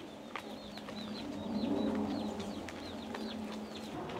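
Chickens and chicks clucking and peeping softly in a steady background chorus, with faint high chirps scattered throughout and no talking.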